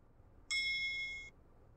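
Chime from the built-in speaker of a DDPAI Dash Cam Mini 5, a single clear electronic tone held for under a second, alone against faint background hiss.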